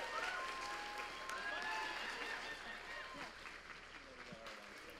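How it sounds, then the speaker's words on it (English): Audience applause at a convention closing ceremony, sustained crowd clapping at steady loudness with cheers and whistles mixed in, easing off slightly toward the end as a voice begins. "Please give him a round of applause anyway."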